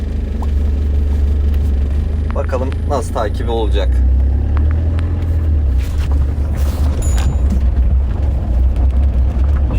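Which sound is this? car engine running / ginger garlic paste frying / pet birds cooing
car engine running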